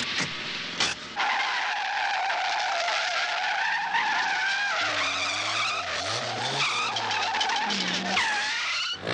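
Race car tires skid and squeal under hard braking, a loud continuous screech with shifting pitch sweeps and engine growl underneath, sustained through most of the stretch with no talk.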